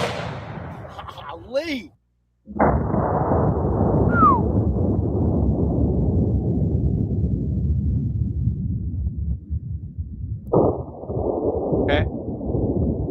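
A 700 Nitro double rifle fires its right barrel in a huge, close boom that rolls into a long rumbling decay. A second heavy blast follows several seconds later, and a voice speaks briefly beforehand.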